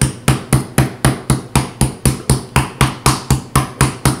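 Raw meat being pounded thin for schnitzel with a kitchen mallet, about sixteen loud, evenly spaced thuds in a steady rhythm, close up with no talking.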